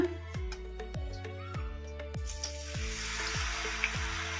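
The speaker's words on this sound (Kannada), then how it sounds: "ಈ ಥರ ದೋಸೆ ಥರ ಹಾಕ್ಬಿಡೋಣ. ಮೀಡಿಯಂ ಫ್ಲೇಮಲ್ಲಿ ಫ್ರೈ ಮಾಡ್ಕೋಬೇಕು." Raw potato dosa batter spread on a hot pan over a medium flame: a soft hiss of sizzling that swells partway through, set against a steady series of rhythmic knocking beats.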